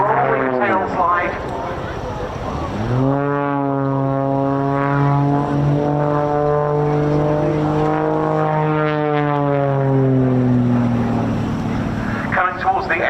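An unlimited aerobatic display plane performs at the RAF Cosford air show, its propeller engine droning steadily and shifting pitch through rolls and a tail slide, loud and sustained beneath an announcer's commentary.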